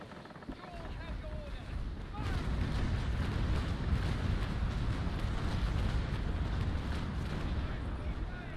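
A sailing-ship cannon broadside fires during a naval battle in the game Naval Action, breaking in after a quieter stretch as a heavy, sustained booming rumble that rolls on to the end.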